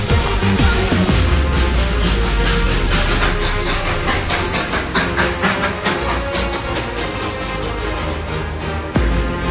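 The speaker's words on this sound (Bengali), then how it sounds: "ট্রেনটা এখনই ঢুকলো, সময় মতো পৌঁছে গেলাম বাতাসিয়া লুপ।" The Darjeeling toy train rumbles into Batasia Loop with continuous clattering, hissing and mechanical noise, loud and close throughout, the sound shifting as it passes.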